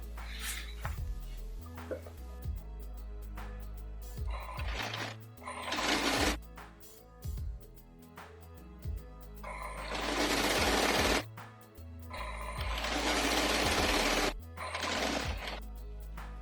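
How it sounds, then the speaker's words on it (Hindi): An electric sewing machine hems a floral print long gown in repeated bursts, loud close whirring runs of stitching separated by pauses and fabric handling, some stretches lasting several seconds. "फिर नीचे का फोल्ड करेंगे, जो अपना ये सिलाई वाला पार्ट है वहां से इस तरह से फोल्ड करना है और ये पार्ट पे मशीन लगानी है।"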